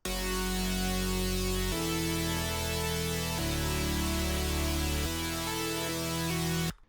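A beat's main chord progression plays as a steady, full loop of sustained chords, changing roughly every 1.7 seconds across four chord blocks, loud and continuous with no voices before stopping abruptly.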